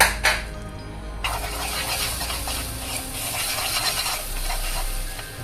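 Eggs are stirred in a new pan over low heat, with a gentle steady sizzle and soft scraping of the utensil against the pan, close by, after a couple of clattering knocks at the start.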